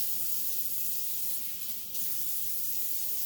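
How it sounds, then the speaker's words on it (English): Tap water spraying and hissing into a sink while a cast iron frying pan is washed, a steady soft rush with a brief dip midway, no voices. "Now to finish the dishes, which is just my frying pan."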